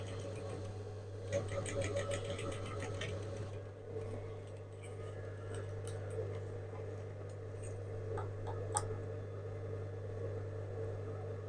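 A sewing machine runs a steady stitch along the neckline of a bolero jacket, giving a constant low mechanical hum with light rapid clicking at the start, heard close up and fairly quiet.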